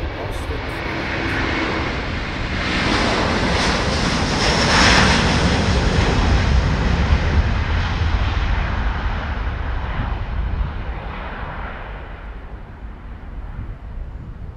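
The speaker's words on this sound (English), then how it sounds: "And we have Delta Airlines, their Airbus A330, and that is the Amsterdam to Austin flight." A Delta Airlines Airbus A330 passes at Schiphol with a broad, rushing jet roar that swells to a peak and slowly fades, with gusty wind buffeting the microphone.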